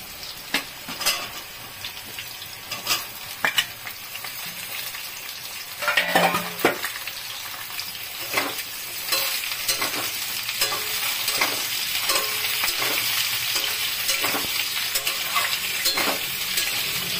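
Slices of ridge gourd and partly fried potato sizzle in oil in a pan, a constant close frying hiss broken by repeated clinks and scrapes of a utensil against the pan, growing louder midway.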